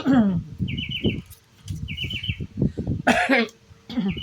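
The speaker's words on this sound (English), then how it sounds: "hear the bird singing behind me." A small bird sings short, repeated trilling phrases at a moderate distance, recurring every second or so over low background noise and some faint voice-like sounds.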